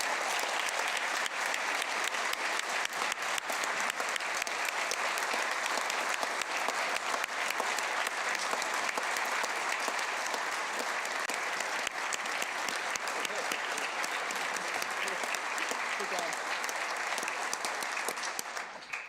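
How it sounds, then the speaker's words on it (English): Long, steady round of audience applause during a state governor's budget address in a large hall, dense and even throughout, heard faintly at a distance and fading out at the end. "Would you all mind giving Commissioner Jim Terwilliger and his team a round of applause for their fantastic work?"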